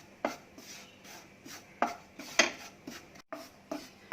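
Coconut is dry roasted in a pan and stirred, making quiet, scattered scrapes and taps at irregular intervals with soft rustling between them.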